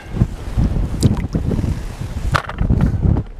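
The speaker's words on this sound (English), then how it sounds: "Wind's really picking up." Wind gusting over a river where a fisherman is trout fishing, loud broadband buffeting on the microphone with rushing surges throughout, close and continuous, no talk.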